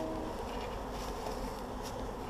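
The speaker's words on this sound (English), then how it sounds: "There's a lot of bees." A dense, steady hum of many honey bees buzzing together around a hive in a bee yard, continuous and close, with no pauses.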